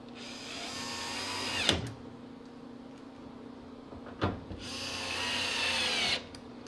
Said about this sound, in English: we switch bits again, and we're going to put these 4 screws back in